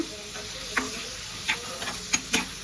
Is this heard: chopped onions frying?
yes